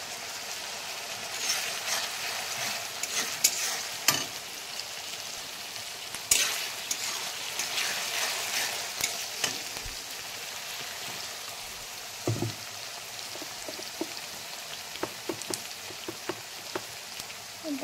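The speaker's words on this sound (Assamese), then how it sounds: "এতিয়া কাটি থোৱা জলকীয়া আৰু নহৰুখিনি দি দিম" Chopped green chilies and onions hit a pan of spices with cardamom and garam masala, giving a continuous hissing sizzle, like light rain, with scattered sharp stirring ticks and clinks. The sound is close and steady, with no speech.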